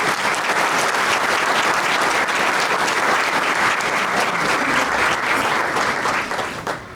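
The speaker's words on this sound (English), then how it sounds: "So a round of applause, please, for our communication team." A hall audience at a Catholic school Hall of Fame ceremony applauds in a dense, sustained burst of clapping that holds loud and even for about seven seconds. Toward the very end it begins to taper.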